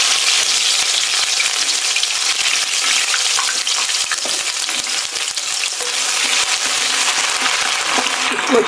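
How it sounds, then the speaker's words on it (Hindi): Ginger-garlic paste frying in oil for a chicken Afghani karahi gives a loud, steady, close sizzle that runs the whole time, with a few faint clicks from stirring. "इसको अच्छी तरह से भून लेंगे।"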